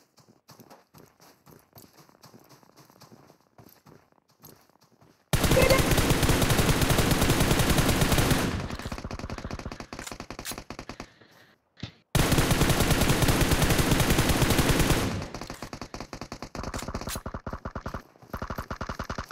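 Video game gunfire erupts in two long, loud bursts of rapid automatic shots separated by a quieter gap, with fainter scattered shots and clatter before and after.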